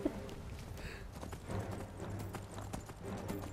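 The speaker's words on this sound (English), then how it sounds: "I'm on a horse." Horse hooves clip-clop at a steady trot in Skyrim, a quiet, even rhythm of hoof strikes over low background ambience.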